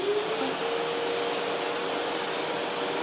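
A DeWalt 6 gallon wet dry vac runs steadily and close, giving a constant broadband whoosh with a faint motor whine and no change or pauses.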